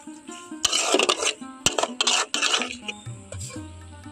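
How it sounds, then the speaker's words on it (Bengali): A spoon stirring an egg and flour breakfast filling with green chilli, cumin, coriander powder and a little sugar in a pan, giving close, loud scraping and clinking strokes in uneven bursts over a soft background tone, with no talking. "এই সমস্ত কিছু আবারও নাড়াচাড়া করে নেব।"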